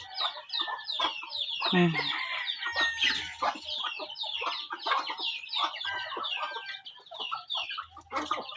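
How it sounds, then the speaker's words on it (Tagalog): Chickens and small chicks cluck and peep in a coop, a dense, steady chatter of overlapping calls close by, with a brief low murmur from a person. "Ang madami yung mga ganito kalaki, mga sisiw. Doon sa kulungan"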